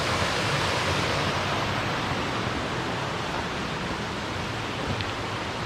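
Water cascading steadily down a creek in the Great Smoky Mountains, a constant broadband rush with no break, close and even throughout.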